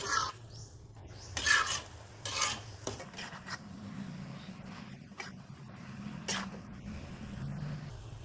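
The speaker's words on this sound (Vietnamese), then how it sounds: "Rồi mình sẽ trộn đều lên. Trộn cho mì đều." Instant noodles are stirred and tossed with shrimp in a pan of thickened sauce, producing intermittent scraping and clinking of a utensil against the pan. A faint sizzle sits underneath, and the sounds come close and in uneven bursts.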